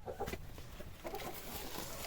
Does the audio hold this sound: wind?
no